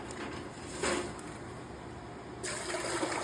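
Warm water poured into a goats' water bucket on a cold winter farm, a steady soft splashing trickle that swells into louder gushes near the middle and the end.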